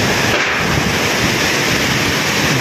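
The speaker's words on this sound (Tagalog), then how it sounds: "Grabe itong hangin." Strong, steady wind roars through a long overnight storm with rain, loud and continuous, buffeting the microphone with a dense broadband rush and no voices.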